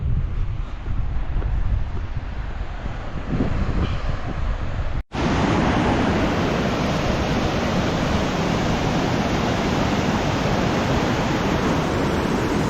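A waterfall near Badrinath in Uttarakhand roars as steady, dense broadband rushing water, loud and continuous, with a brief cut partway through after which the roar resumes closer and brighter.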